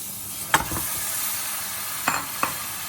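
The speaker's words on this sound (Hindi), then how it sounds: "अब इसमें मैं मटन डालूँगी" Mutton goes into frying masala and is stirred, a soft steady sizzle beneath three distinct scraping clatters of a spoon against the pot, close by with no voices.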